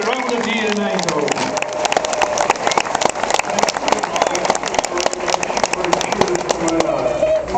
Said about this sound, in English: A big applause for you, for all the people surrounded here in Eindhoven.